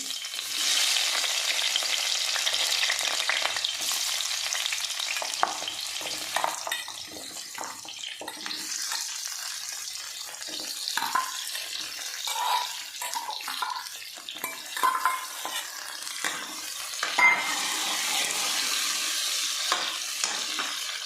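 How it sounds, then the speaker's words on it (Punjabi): Chopped onions shallow frying in oil for restaurant-style palak paneer, a loud, dense, steady sizzle with hissing crackle, broken now and then by the scrape of stirring, and no one talking. "ਇਹ ਸਾਰੇ ਪਿਆਜ਼ ਅਸੀਂ ਨਾ ਸ਼ੈਲੋ ਫਰਾਈ ਕਰ ਲਾਂਗੇ"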